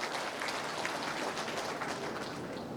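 Audience applause at a political rally in Sabalgarh, a dense, steady clatter of many hands clapping throughout, loud and even with no pauses.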